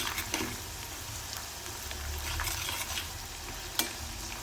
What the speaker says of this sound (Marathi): तर यात पण आपण काजू टाकून घ्यायचे आहे तळायला